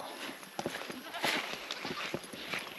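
Goats forage around a dry former watering spot on a farm, bleating now and then over a steady rustling outdoor background.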